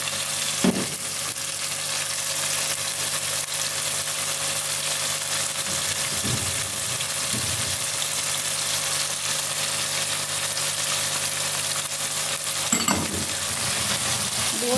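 Chicken frying with ginger and garlic paste for Kashmiri gandle saag, a steady close sizzle with occasional stirring scrapes and clinks running throughout, no talking.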